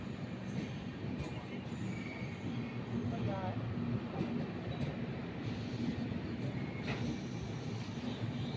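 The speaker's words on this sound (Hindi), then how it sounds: "फिर आई हमारी ट्रेन" Passenger train pulling into a station platform, a continuous loud rumble of wheels and rolling stock with faint squeals, heard up close amid station bustle.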